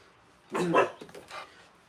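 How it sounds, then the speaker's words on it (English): Security dogs barking somewhere nearby, a short burst of a few barks in a quiet alley setting, moderately loud and unaccompanied by talk. "Security dogs."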